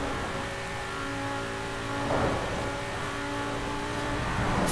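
2013 Audi RS 7 Sportback with a V10 engine in Forza Horizon 4, a sustained engine drone that swells slightly as it revs at high speed, loud and continuous with no talk.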